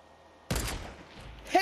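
A single sharp, loud sniper shot in Fortnite cracks out after a quiet moment, its tail ringing off before another short burst of sound follows, with a player's voice nearby.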